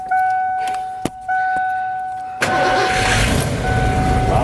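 A car engine cranks and catches during a fuel pump test, with a sharp click and a steady tonal whine beforehand, then the engine fires at once and settles into a loud, rough idle close by.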